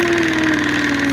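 A paint mixing machine spinning a bottle of paint gives a loud, steady mechanical hum with a constant buzzing vibration, close and alone.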